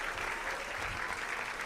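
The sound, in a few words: applause for God in church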